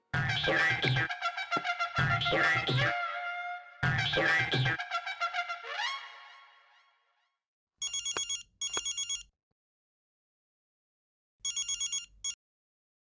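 A telephone ringtone trills in repeated bursts, followed by shorter electronic ring pulses after a pause, clear with silence between.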